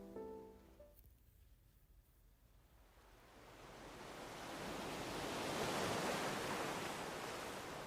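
Ocean waves on a beach build from quiet into a broad, steady wash of surf that swells loudly and holds, with no voices over it.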